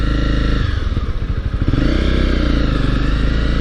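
A motorcycle rides along fitted with a new RK 520RXW gold chain, the engine droning loud and close with a brief uneven rumble and clatter as it picks up speed.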